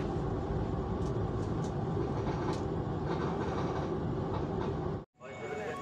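Passenger train arriving at Karawang station, heard as a loud continuous rumble of rolling carriages with clattering wheel and track noise and occasional squeals, which cuts out abruptly near the end before a quieter, steadier hum resumes.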